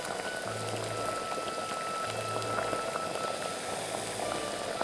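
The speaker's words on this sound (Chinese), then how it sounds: "好，现在大火已经煮开了" A pot of pork and glass noodles boils hard on high heat, a steady bubbling and popping close by with a low rumble underneath.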